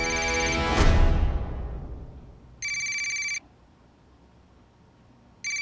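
A short burst of noise fades out, then an electronic phone ringtone sounds for under a second, pauses, and starts ringing again.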